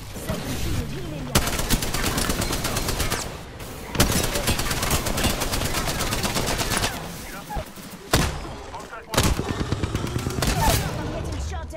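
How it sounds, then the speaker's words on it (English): Gunfire in the video game Apex Legends, repeated rapid bursts of automatic shots in several volleys with brief gaps between them, close and loud, with game voice lines speaking over the shooting. "I'm getting shot at."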